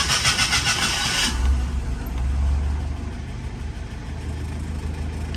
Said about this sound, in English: So let me see if I can make sure it's in neutral, and we'll fire her up.